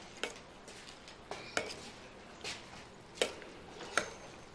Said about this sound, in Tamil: கிளறிக்கிறேன், இப்படி